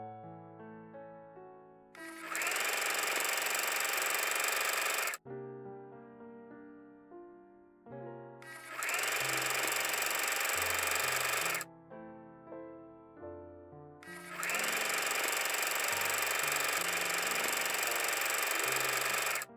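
A sewing machine stitches the side seams of a dress in three separate runs, each a steady, even mechanical whir of a few seconds, separated by quieter pauses with light handling sounds.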